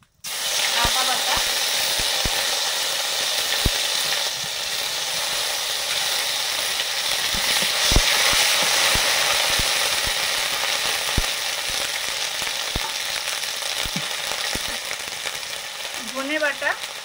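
Okra frying in mustard oil with nigella seeds, dried red chilli, turmeric and ginger paste makes a continuous, fairly loud sizzle with scattered sharp clicks of stirring, and a faint voice near the end.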